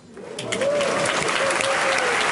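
Applause from a live audience at an afternoon stage show in Wisconsin, a steady dense patter of hands sustained throughout, with a faint tonal whistle or voice sliding above it.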